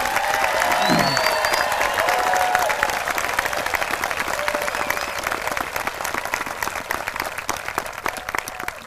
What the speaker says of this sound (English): I want all of us to give you a big round of applause, everybody